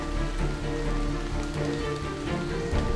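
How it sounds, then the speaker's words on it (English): Steady rain falls in an animated Cars story about Lightning McQueen, washing mud off the race car; a continuous, fairly loud patter of drops on surfaces fills the scene without speech. "It then started raining, washing all of the mud off McQueen."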